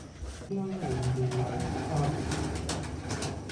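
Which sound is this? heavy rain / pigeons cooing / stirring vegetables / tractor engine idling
pigeons cooing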